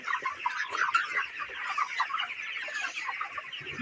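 Thirty-day-old broiler chickens crowded in a poultry shed of about two thousand birds make a dense, continuous chorus of clucks and chirps, steady and fairly close throughout.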